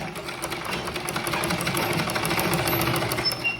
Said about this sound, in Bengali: তো এখানে আমি জামা সেলাই করতেছিলাম।